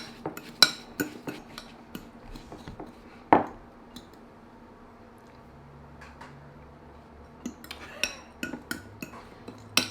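A spoon clinks and scrapes in a bowl while lime juice sauce is mixed by hand for striped bass sliders, with sparse, close ticks and one sharper knock, faint and quiet, no talk.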